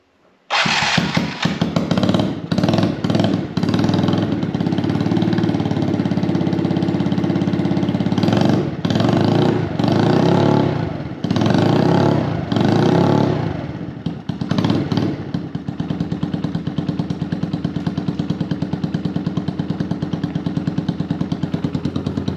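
A Yamaha YZF50 dirt bike with an aftermarket Big Gun exhaust revs loudly and repeatedly, with throaty blips and brief drops between them, close up, then settles into a rough idle.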